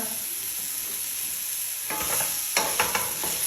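Spicy samosa filling stirred in a pan: steady background hiss at first, then scraping, sizzling stirs break in over the last second and a half, with a few sharper clinks near the end.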